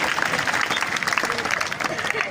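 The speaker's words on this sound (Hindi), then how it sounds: "जोरदार ताली बजा करके सम्मान करते हैं।" A crowd of attendees at an Arya Samaj convention applauds in a dense, steady patter of clapping, with voices mixed in beneath the claps throughout.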